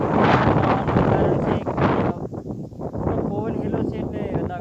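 Wind gusts across an open peanut field, buffeting the microphone in rough bursts that ease off partway through, while someone talks over it.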